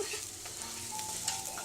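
A spoon stirs cayenne pepper into a sauce for a stuffed pork chop dinner, close and steady, with a soft sizzling hiss and faint scraping throughout and no talk.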